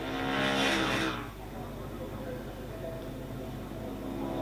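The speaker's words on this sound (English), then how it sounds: "that Stratstone racing bike has quite a good turn of speed" Harley-Davidson XR1200 racing motorcycles at Cadwell Park, a loud engine rush passing close for about a second before fading into a steady distant drone of engines and circuit noise.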